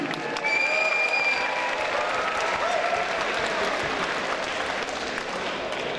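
A boxing crowd at a Muay Thai fight card applauds steadily for both fighters, dense continuous clapping with some cheering and whistles filling the arena for several seconds.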